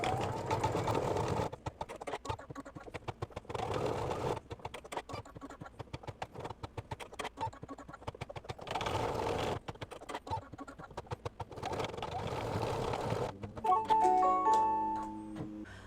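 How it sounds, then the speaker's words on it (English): An embroidery sewing machine stitches with black thread in rapid, rhythmic bursts of mechanical clatter separated by short pauses, close and moderately loud, ending in a few higher-pitched beeps and whirs. "I've threaded the machine with black, and now I'm going to do the pupils of the eyes"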